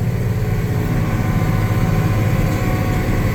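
A tractor engine idles steadily and close by, a continuous low, even rumble with no break and no voices.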